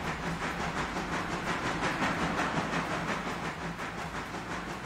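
A steam train in the railroad simulator Railroader gives a steady, continuous mechanical rumble with hissing and faint rhythmic clatter, evenly loud throughout and with no voices.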